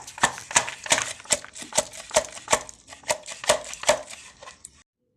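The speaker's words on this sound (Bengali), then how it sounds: "তো আমি আগে পেঁয়াজটা গ্রেট করে নেব।" Onion rubbed by hand against a grater gives a steady rhythm of about a dozen close, crisp rasping strokes, then stops.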